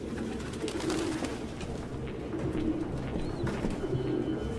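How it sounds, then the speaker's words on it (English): Pigeons coo steadily in a cramped indoor space in a Detroit: Become Human scene, their low rolling calls layered over a constant murmur of many birds, with no talking. "No human could live with all these fucking pigeons."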